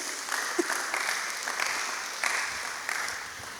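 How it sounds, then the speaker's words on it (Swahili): Church congregation applauding, a sustained full roar of many hands clapping, steady and fairly loud, filling the whole stretch with small swells. "Mchapie Yesu makofi."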